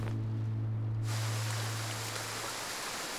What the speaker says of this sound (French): De toute façon, la pluie va bientôt s'arrêter